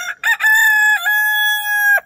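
A rooster crows loudly and close by, a long sustained call after a brief clucking start, with no other voices.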